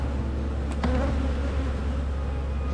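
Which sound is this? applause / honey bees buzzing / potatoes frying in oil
honey bees buzzing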